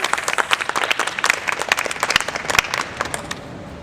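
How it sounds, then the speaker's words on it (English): An audience at an open-air improv comedy show claps in a burst of applause, dense and lively at first, then thinning out and fading toward the end. "Round of applause."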